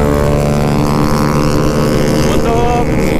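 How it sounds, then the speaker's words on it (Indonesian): A Yamaha Lexi 155 scooter engine runs hard on a dyno test, a loud steady droning roar holding near constant pitch throughout. "Kali ini kita akan melakukan dyno test pada motor Lexi"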